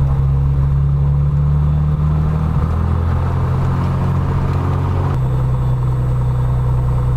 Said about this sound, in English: I'll keep the propeller RPM to 1200 for a few minutes.